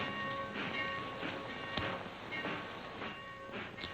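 Train arriving at a station in a 1943 western film, a steady rolling rumble with rhythmic clatter and faint hissing, heard close and alone without voices.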